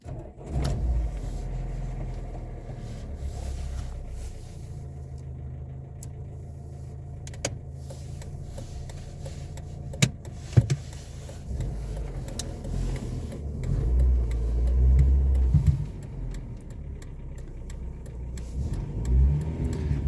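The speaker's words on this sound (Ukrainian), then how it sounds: "Руль не дає включити зажигання." A car with a steering lock preventing the ignition from turning, heard from inside with low engine rumble, scattered clicks and knocks, and a couple of swells as the engine revs, moderately loud throughout.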